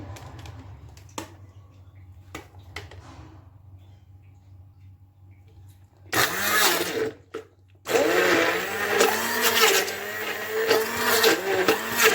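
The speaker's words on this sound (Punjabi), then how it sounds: "ਹੁਣ ਅਸੀਂ ਇਹਨੂੰ ਕਰਾਂਗੇ ਬਲੈਂਡ" An electric blender whirs up mango for mango lassi, starting with a short burst, a brief pause, then a sustained loud churning run after quiet handling clicks.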